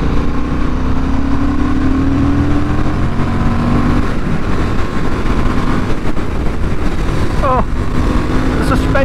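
A 2023 Honda Hornet CB750 accelerates uphill in fourth gear, its engine note climbing steadily and loud over wind noise as a rider talks.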